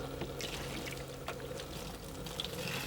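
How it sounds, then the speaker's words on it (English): Water pours from a watering bucket onto peat moss in a steady, splashing trickle that runs unbroken for a few seconds over a low background hum. "So now I'm gonna water the peat moss"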